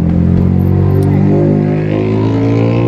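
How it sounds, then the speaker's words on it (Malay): A motorcycle passes through a quiet village lane, its engine a steady, fairly loud drone that holds close for a few seconds and eases slightly toward the end, with no talking. "Ni ada orang naik motor aja."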